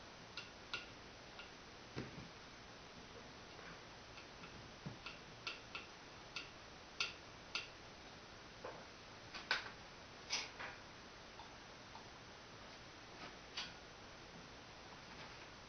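A homemade telegraph sounder gives faint, irregular sharp clicks as its key is pressed, about twenty separate ticks spread through a quiet stretch with no talking.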